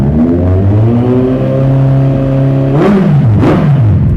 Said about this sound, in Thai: รอบเครื่องยนต์คันนี้เดินเรียบครับ ไม่มีสะดุดครับ